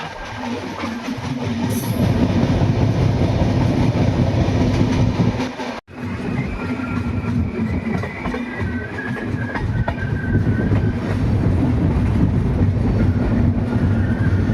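Lucknow Double Decker Express (12583/84) rolling on rails near Ghaziabad Junction, a steady loud rumble of wheels and carriage noise with a faint high squeal, briefly dipping mid-way before resuming, no voices.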